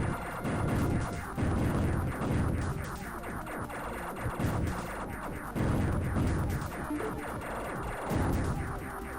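Gunfire and explosions from shooting blimps in Tyrian, Episode 3, a dense run of loud rhythmic blasts and crashing booms that comes in repeated waves over a busy game soundtrack.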